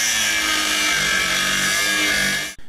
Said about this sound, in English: Finally, I had to cut the bolt off.